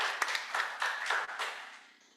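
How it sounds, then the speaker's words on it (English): Audience applause at a conference dialogue event, a short, moderately faint burst of clapping that fades out after about two seconds. "Round of applause for him,"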